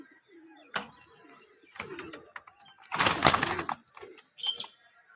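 A breeding pair of pigeons coo in short, soft bursts close by, with a louder throaty phrase in the middle and brief rustles between calls.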